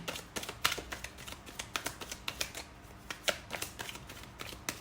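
Angel oracle cards being shuffled by hand, a rapid run of crisp papery riffles and taps close up, steady and unbroken with no voices.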